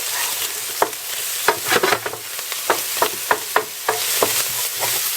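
Spaghetti aglio e olio stirred in a frying pan with added olive oil, a steady sizzle broken by repeated scraping and tapping of a utensil against the pan, close and clear.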